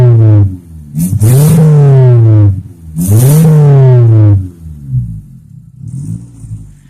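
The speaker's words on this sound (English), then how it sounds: "I don't know if you can hear the turbo or not." A turbocharged Mitsubishi Lancer rally car engine is blipped in two sharp, loud revs that rise and drop back. A rough idle follows, and then the engine begins to shut off.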